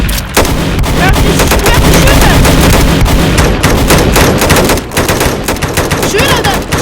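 Sustained loud video game gunfire, dense automatic bursts and heavy booming shots layered almost continuously, with a brief dip near the end.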